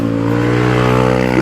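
A motorcycle with a 350 engine held at full throttle while climbing a slope on a quiet touring road, a loud steady drone throughout with no break.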